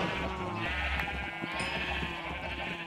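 A Minecraft sheep bleats a few times at low volume over a faint ambient game background, with no talk.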